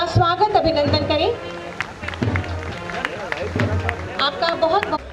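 An indoor audience at an international Buddhist conclave in Lucknow gives a round of clapping and cheering to welcome a deputy chief minister, loud and scattered, mixed with crowd murmur and voices.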